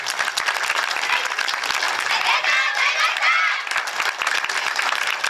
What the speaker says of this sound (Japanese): そんな響きの皆様に今一度大きな拍手をお願いいたします